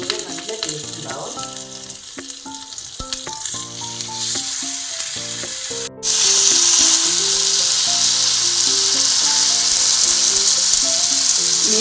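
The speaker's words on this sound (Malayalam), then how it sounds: "മീൻ പൊരിക്കുമ്പോഴും അതേപോലെ മീൻ കറി വെക്കുമ്പോഴൊക്കെ കുറച്ച് പെരിഞ്ചീരകം ചേർത്ത് കഴിഞ്ഞിട്ടുണ്ടെങ്കിൽ നല്ല ടേസ്റ്റ് ഉണ്ടാവും" Fish sizzling as it fries in a pan with fennel seeds and curry leaves, a loud, steady crackle that grows denser and brighter partway through, heard alone with no speech.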